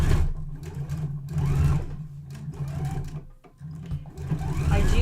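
A sewing machine quilts a festive table runner, running in close, steady bursts of rapid needle chatter that briefly slow and pause before resuming.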